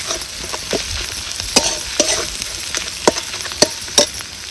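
Masala with coriander powder dry-roasting in a pan, a steady sizzle with repeated scraping strokes of a spoon stirring it, close and fairly loud, no voices.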